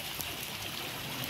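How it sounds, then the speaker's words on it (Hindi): Heavy rain pours off a roof as a steady, dense rush of falling water, close and continuous for the whole moment, with no one speaking. "यहाँ पे देखिए छत से बहुत सारा पानी आ रहा है।"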